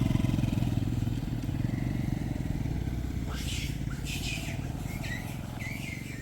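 A motorbike engine drones steadily on a road where monkeys gather, holding a constant close rumble throughout while birds chirp and tweet faintly in the background.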